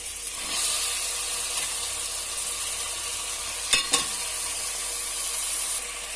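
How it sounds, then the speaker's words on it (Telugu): Half a kilo of chicken sizzles and is stirred in a pan for pulao, a steady close frying hiss with scraping stirs and a couple of louder clatters near the middle, and no voices. "ఇంకా చికెన్ వేసుకోవాలండి"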